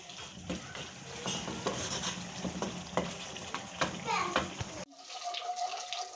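Chicken karahi with karahi masala and yogurt sizzles and fries in a pan, with stirring scrapes and clatters up close, a voice talking intermittently, and a cut to quieter frying near the end.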